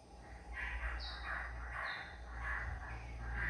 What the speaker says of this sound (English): It's a very small bird. But also, like our wren, it's a very loud bird. You can hear it in the distance.